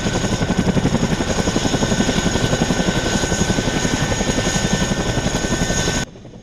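A CH-47 Chinook helicopter flying, the kind used to carry classic fighter jets and heavy equipment, gives a loud, steady rhythmic rotor thumping under a constant engine whine that runs throughout and cuts off abruptly near the end.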